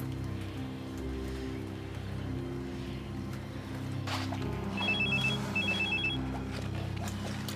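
A telephone ringing after a call is dialed, heard as two short electronic rings in a row over a steady low hum and muffled background noise.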